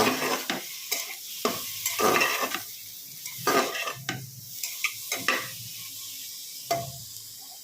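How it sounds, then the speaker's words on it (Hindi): Spices and vegetables (potato, spinach, brinjal and radish) fry on a medium flame, with a soft sizzle under repeated loud scraping strokes of a spoon against the pan, heard alone. "मसाले को मीडियम फ्लेम पे भूनेंगे।"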